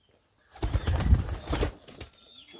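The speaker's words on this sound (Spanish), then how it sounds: "Ay, paloma, ya las voy a grabar también." Pigeons burst into flight near a rural house, with a loud flurry of flapping wings lasting over a second before it trails off into faint rustling.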